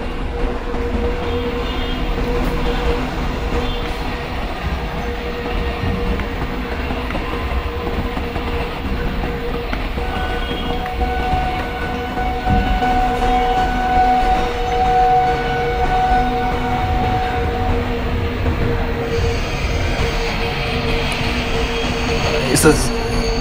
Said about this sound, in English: Jammu Tawi Sambalpur Express is coming on the opposite line. It's lead with a VAP 4 engine.